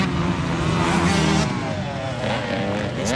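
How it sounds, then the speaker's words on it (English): A 31-year-old Suzuki RM125 two-stroke motocross bike races hard, its engine screaming loudly and steadily at high revs with pitch swings as it shifts, close and continuous. "the little RM125 singing once again"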